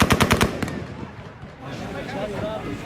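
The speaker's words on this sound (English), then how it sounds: "Outside the airport, there is the sound of gunfire as armoured vehicles manoeuvre nearby" A quick burst of automatic gunfire rattles outside Kabul airport as armoured vehicles manoeuvre nearby, followed by a murmuring crowd and low rumbling.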